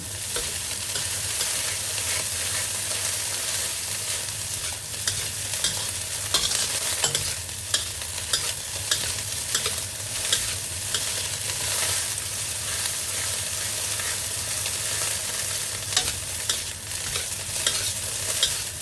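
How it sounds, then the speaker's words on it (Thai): Freshly cooked rice for kimchi fried rice gets stir-fried in a hot pan, with continuous loud sizzling and repeated scraping, clattering strokes of a spatula, close up and without any voices. "ข้าวหุงใหม่ๆ เราผัดประมาณนี้แหละ"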